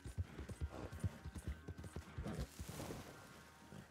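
Hooves clip-clop in a quick, even rhythm as a silver horse with blue eyes trots in Red Dead Redemption 2, close and fairly soft.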